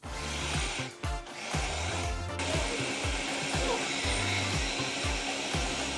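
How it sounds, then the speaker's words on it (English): A countertop blender on its smoothie setting whirs loudly and close as it blends keto pizza bite batter of melted butter and eggs. The motor surges in repeated rhythmic pulses as the mixture churns. "Now we're just going to blend everything up using the smoothie button here"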